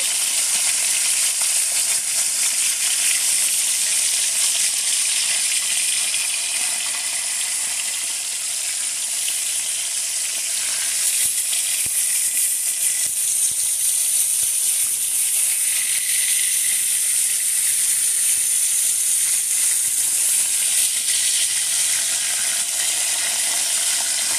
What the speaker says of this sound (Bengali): মাছের এই পাশ লাল করে ভাজা হয়ে গিয়েছে।